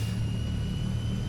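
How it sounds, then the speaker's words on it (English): A Transall C160 turboprop engine spools up in a flight simulator, a steady droning whine with a low rumble and a constant high tone, unbroken and fairly loud. "Waiting for the engine to spool up and stabilize"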